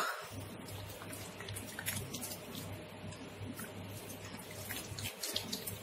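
Water runs from a tap onto a turmeric soap bar as it is wetted, a steady splashing patter with a few brief pauses, close and fairly quiet, with no voice over it.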